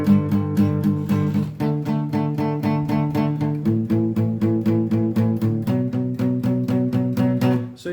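Acoustic guitar strums the chorus chords of a song in a steady rhythm, with crisp repeated strokes and a chord change every couple of seconds, played close with no voices.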